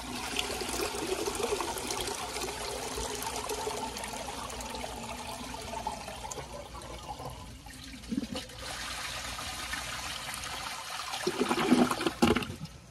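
A 2002 Sanitarios Maracay toilet flushes with the handle held down, giving a steady rushing wash of water for several seconds that drops off, then gurgles and surges briefly again near the end.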